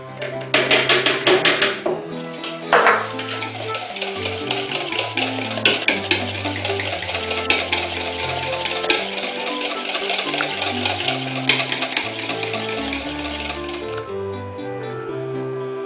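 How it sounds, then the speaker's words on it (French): A whisk clatters against a bowl, beating an egg and sugar mixture with cornstarch for pastry cream, in a fast, steady, close rhythm of tapping and scraping over music, without talk. "je vais mélanger 7 g de maïzena"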